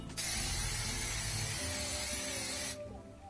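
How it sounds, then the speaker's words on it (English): Makeup setting spray shaken vigorously and then misted over the face: a rapid rattling shake gives way to a steady, close hiss of aerosol spray lasting a couple of seconds, alone without talking. "the final touch for me is the spray. which again, is shake quite vigorously, and then just spray it all over here"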